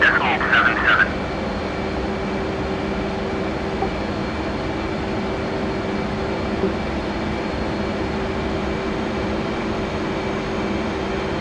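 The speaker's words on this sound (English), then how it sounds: "you are cleared for takeoff when ready" Steady, loud engine roar from a military training aircraft cleared for takeoff in winter conditions, holding level throughout with a faint tonal whine, and a brief voice-like burst at the very start.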